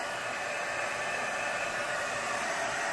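A hair dryer runs steadily on a freshly drawn nail art pen design, giving a constant, close, loud airy whoosh with no other sounds.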